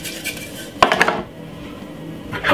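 Salad tossed in a bowl: a burst of clinking utensil-on-bowl rattles near the start, then a quieter stretch and another brief clatter at the end, close by.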